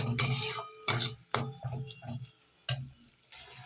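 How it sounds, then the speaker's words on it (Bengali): Mustard paste is stirred into hot oil for a bhola fish curry, with close, irregular scraping strokes of a spoon against the pan and soft wet sizzling between them. "আমি এই সর্ষের যে পেস্টটা এর মধ্যে দিয়ে দিলাম, এটাকে তেলের মধ্যে বেশিক্ষণ নাড়ব না"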